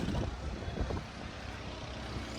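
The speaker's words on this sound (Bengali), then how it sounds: "দেখুন আকাশ পুরো মেঘলা, কি তুফান আর তুফান" Strong storm wind under an overcast sky in Vrindavan roars as a loud, continuous rush with heavy buffeting against the microphone, most intense in the first second and then steady, with no talk.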